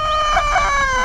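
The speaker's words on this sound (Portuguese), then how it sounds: "E as galinhas são sempre as primeiras a acordar" Chickens and a rooster crowing at sunrise on a rural farm in southern Angola, with a loud, close crow whose harmonic notes rise and fall, clucking fowl underneath, and no talk.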